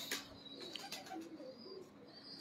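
Prized Pakistani show pigeons cooing softly in a loft, several low, rolling coos overlapping at a faint, moderate distance with light background noise.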